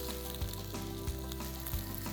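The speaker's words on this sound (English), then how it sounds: "Ooh, listen to that sizzle." Steady crackling sizzle of shrimp and corn cakes frying on a hot griddle, with a soft low thump recurring every half second or so beneath the hiss.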